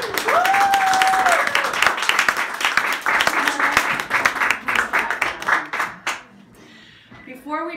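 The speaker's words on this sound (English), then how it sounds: "Give yourselves a round of applause." Guests at a wedding ceremony burst into loud, dense clapping that holds steady for several seconds and then thins out, with a voice briefly heard over the applause.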